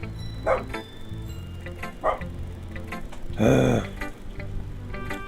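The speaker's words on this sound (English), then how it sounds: "Ignore the dog, guys." A dog barks and yips several times indoors, short separate bursts with a louder whining bark near the end, over a background game soundtrack and low voices.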